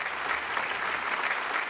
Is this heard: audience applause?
yes